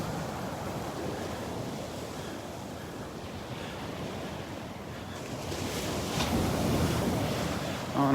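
Surf breaking and wind blowing at Vanderbilt Beach during a morning walk, a steady broad wash of waves with gusty wind buffeting the microphone, swelling louder toward the end, no talk.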